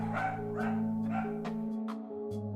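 Dogs barking indoors in a room, a run of sharp, loud barks at a steady pace over a constant background hum.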